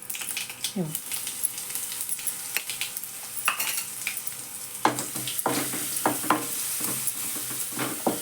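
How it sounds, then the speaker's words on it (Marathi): Mustard seeds and cumin, with salt and chili, sizzle in hot oil, making a quiet hiss broken by scattered crackles and pops and a few sharp utensil taps against the pan. "मोहरी घालते जिरं आणि हे जे मीठ मिरची कुठली आहे ना ती घालते मी"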